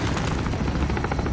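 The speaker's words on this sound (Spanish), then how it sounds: "The chopper is out, get down." A helicopter in Call of Duty thunders close and loud, its rotor chop pulsing rapidly and continuously through the short moment with no one speaking.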